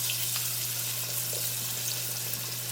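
Beer-battered fish fries in hot oil or lard, a close, steady sizzle and bubbling with no talk over it.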